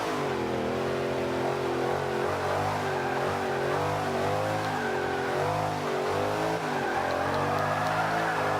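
A GT500 race car in Forza 5 drives steadily with its engine droning and revving through shifting pitch, loud and continuous with no talk.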